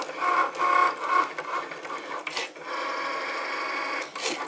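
A cutting machine with a premium pointed blade running a test cut, a close whirring and buzzing with short rhythmic pulses, then a steady mechanical drone and a final burst.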